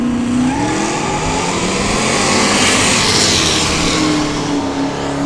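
A Chevrolet S10 and a Camaro run a no-prep drag race pass at a dragway, a loud sustained engine roar that climbs in pitch, then drops and rises again as the cars go by.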